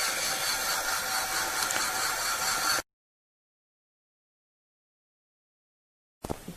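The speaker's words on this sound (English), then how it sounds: "let's just check that the printer is printing correctly." An Analox analyser's built-in printer whirs in a steady, close, dense buzz for about three seconds, then stops abruptly into silence before a brief mechanical click at the end.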